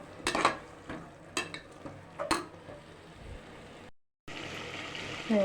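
Onions and tomatoes for tomato rice sauté in a pan with soft sizzling, broken by several sharp scrapes and clinks of a stirring spoon, a brief silent gap and a louder steady sizzle afterward.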